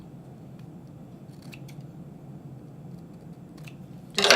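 Scissors snipping wrapping paper while a present is wrapped, a few faint crisp cuts over a low steady room hum, ending in a louder burst of paper rustle.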